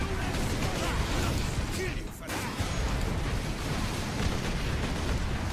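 Video game combat with a loud, continuous, rumbling roar and a grenade blast. The noise dips for a moment, then resumes at full strength, and a player talks over it.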